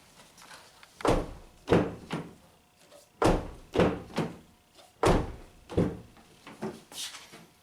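A series of sharp mechanical clunks and thumps, roughly a dozen in uneven bursts, close up, as a 2012 Honda Accord door latch is worked repeatedly with the door panel off.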